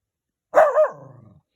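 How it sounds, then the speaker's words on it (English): A dog gives a single close bark that trails into a short grumbling growl, loud against an otherwise silent outdoor background. "He's barking at himself."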